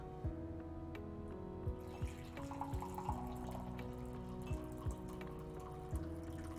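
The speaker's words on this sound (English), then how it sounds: "I'm going to pour the tea" Hot tea poured into a cup, a steady liquid trickle under a background hum, with small clinks of the pot or cup at regular intervals across several seconds.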